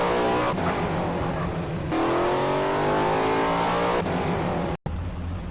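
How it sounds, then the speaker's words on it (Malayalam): A Mercedes E-Class in the game Live Russia drives with a loud, steady engine drone that shifts pitch as it accelerates through gear changes, continuous and close, cut briefly by a short gap near the end. "മെഴ്സിഡീസ് ഈ ക്ലാസ് കാറാണ്"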